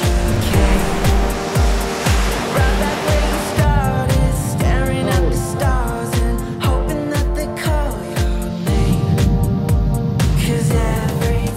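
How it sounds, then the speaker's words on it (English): Surf at a beach in Hossegor, France, with a steady roar of breaking ocean waves and rushing water that stays loud throughout, with no voices. "Be careful because sometimes the waves can be huge"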